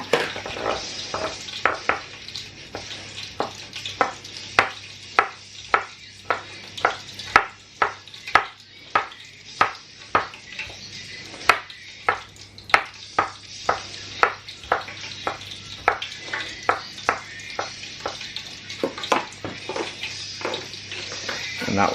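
Pickles being coarsely chopped with a knife on a board for loaded fries, a steady run of sharp close thuds and clicks, roughly two per second, over faint kitchen background.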